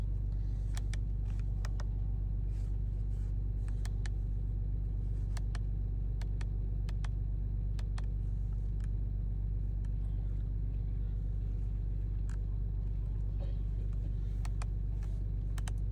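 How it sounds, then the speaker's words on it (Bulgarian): A 2017 Audi A6 idles steadily after starting, a constant low engine rumble running throughout with faint clicks and ticks above it, close and even. "ще запалим колата."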